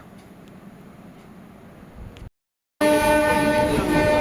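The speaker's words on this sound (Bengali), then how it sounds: "আমাদের ট্রেনকে ক্রস করছে 37815 Howrah Bardhaman গ্যালপিং main line local." A Howrah–Bardhaman galloping main line local train passes close by on an adjacent track, heard from a moving train: a low rumble, a brief dropout, then a loud, sustained horn over heavy rolling noise.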